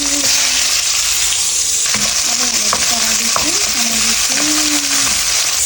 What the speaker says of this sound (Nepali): अब चाहिँ जिरापछि प्याज हाल्दैछु। त्यसपछि आलु हाल्दैछु।